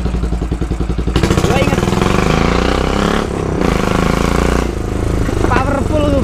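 A Royal Enfield Bobber single-cylinder motorcycle pulls away, its engine note rising steadily and continuously up close, with someone talking over the throb.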